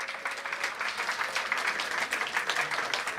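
Steady applause from an audience at a CA Day celebration honouring senior chartered accountant members, a dense even patter of many hands clapping throughout with no talk.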